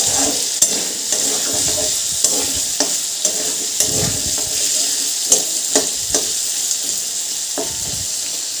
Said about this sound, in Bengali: হলুদ দিয়ে দিলাম এখানে ভেজে নেবো ভালো করে ভাজা ভাজা করে নিয়ে